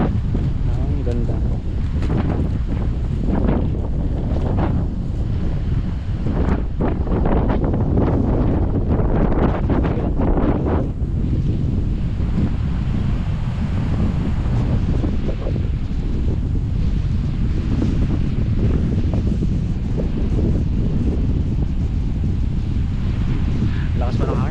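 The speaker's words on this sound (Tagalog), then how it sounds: "Lakas pa ng hangin" Strong wind roars and buffets a microphone on a boat out at sea, with waves and sea spray loud and continuous throughout while people talk intermittently beneath the gusts.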